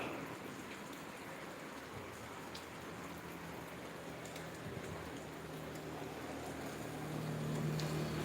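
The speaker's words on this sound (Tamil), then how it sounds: "நல்ல மழை பெஞ்சிங்க கொடைக்கானலில்" Heavy rain falls in Kodaikanal as a soft, even hiss, steady and faint throughout, with no voices.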